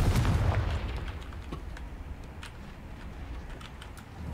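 A Confringo fire spell explodes in Hogwarts Legacy, a single deep boom that rolls off gradually into a low rumble with faint crackles.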